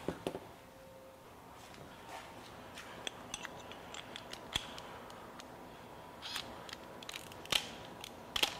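A Makita 9/16 inch drill bit is fitted into the chuck of a Makita GPH01 40V XGT hammer drill driver, with scattered close clicks, ratcheting taps and light mechanical handling sounds.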